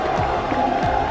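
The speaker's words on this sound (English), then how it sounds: "The crowd getting behind Falcons as you would expect here in Riyadh." A crowd at a Call of Duty Warzone esports event in Riyadh cheers for the Falcons team, a steady roar of many voices with no breaks, held at an even level throughout.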